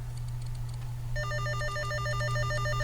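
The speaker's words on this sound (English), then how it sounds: "So I'm calling the other walkie-talkie, and you can hear in the background." Walkie-talkie call tone ringing in a rapid, pulsing electronic pattern, starting about a second in and continuing, fairly faint over a steady low hum.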